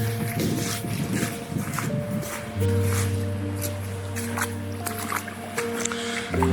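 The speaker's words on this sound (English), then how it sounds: "As you can maybe hear, I'm actually in the water now." Water at Loch Lomond sloshes and swishes steadily as someone wades through it, with soft splashing and a low hum in the background.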